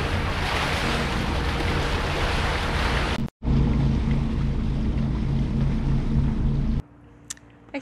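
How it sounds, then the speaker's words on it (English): Motorboat motoring offshore at sea from Fort Lauderdale to Miami, loud continuous rumble of engine, wind and rushing water, briefly cut off, resuming, then dropping to a quieter wash near the end. "No sailing, just motoring from Fort Lauderdale to Miami."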